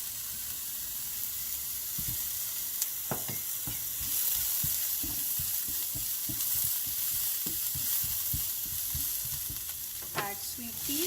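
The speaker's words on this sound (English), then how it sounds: "Saute the onion for 1 or 2 minutes" Onion and green and red chilies sauté in a pan, giving a steady close hiss of frying broken by repeated tapping and scraping strokes of a stirring utensil, with no talk.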